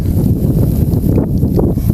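Wind buffets the microphone outdoors on a hill in cloudy weather, making a steady, heavy low rumble that fills the whole short stretch.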